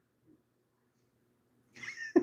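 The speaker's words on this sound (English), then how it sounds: "These cats are going crazy." A cat gives a short, loud, strained meow close by at the end, preceded by a faint brief murmur and near silence.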